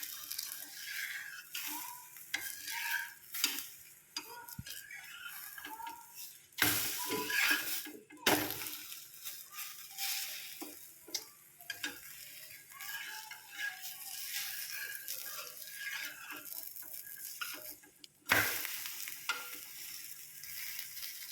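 A hand-patted dhapate flatbread frying in oil on a pan, with a quiet continuous sizzle and occasional louder bursts and clinks as it is handled, no talking.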